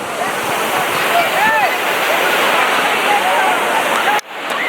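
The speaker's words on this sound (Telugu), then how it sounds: "నేను ఇప్పుడు వాటర్ ఫాల్స్ది ఎడ్జ్లో ఉన్నాను" A waterfall at Kondapalli hills roars loud and close from its edge, a constant broadband rush of falling water that cuts off abruptly near the end.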